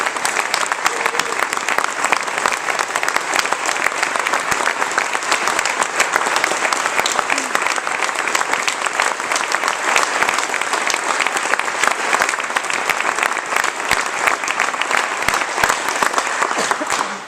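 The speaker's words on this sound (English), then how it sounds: "let's give them one round of applause" Sustained applause from an audience at a House of Friendship Barnraiser award ceremony, dense steady clapping running unbroken and fairly loud throughout, with no talk over it.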